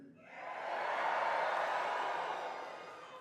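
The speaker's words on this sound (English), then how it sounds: "Let's hear some cheering." A graduation commencement crowd cheers and yells from the bleachers, a broad roar that swells quickly, holds loud and steady, then tapers slightly toward the end.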